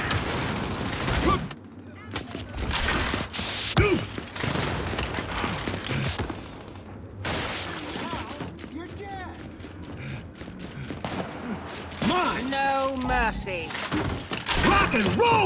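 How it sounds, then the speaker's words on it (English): Sniper rifle shots and gunfire crack through a Gears 5 battle, with several sharp reports and mechanical clanks spread across the scene amid voices and combat noise. "Sniper fire!"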